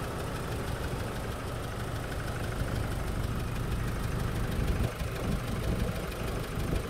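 A 2017 Chevrolet Colorado with a 2.5-litre diesel engine idles steadily nearby, a smooth continuous low rumble with faint knocking texture and no voices.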